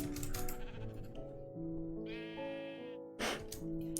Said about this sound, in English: Oh, look at that, sheep.